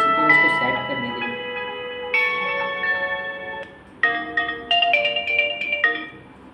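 A bright electronic Oppo A57e phone ringtone plays a few tonal melodic phrases, clear and up close, with brief pauses between snippets.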